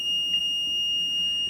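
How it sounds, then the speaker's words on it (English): A malfunctioning Maytag Neptune washer emits a steady, piercing electronic beep tone, unbroken and close, with faint room noise below. "Stop beeping!"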